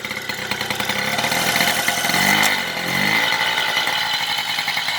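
An MBK 51 moped's two-stroke engine buzzes loud and close, rising in a brief rev midway as the throttle opens, then settles back to a steady rasping drone.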